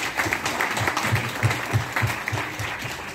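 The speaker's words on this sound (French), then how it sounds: "On peut l'applaudir" Audience at a business financing conference in Guadeloupe applauds steadily, a dense wash of clapping with distinct individual claps throughout, sustained and moderately loud.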